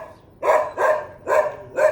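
A dog, one of several held in a pound-like enclosure, barks four times in a steady rhythm, each bark clear and moderately close over a quiet background.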